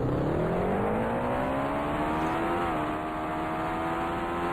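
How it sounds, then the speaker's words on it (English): Steady high-revving race car engine drone from the video game Indycar Racing II, at the 1990 Cleveland Grand Prix, a continuous loud whine with slight pitch shifts throughout, no talking. "Let me know if the engine sounds better"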